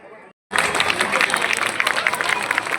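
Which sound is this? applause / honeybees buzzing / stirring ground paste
applause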